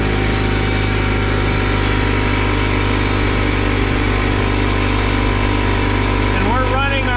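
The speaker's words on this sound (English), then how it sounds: "And we're running our air compressor that we built the cabin with." The air compressor used to build the cabin runs loud and constant, plugged into a Bluetti AC200P power station, its steady motor drone filling the clip with a brief pitch sweep near the end.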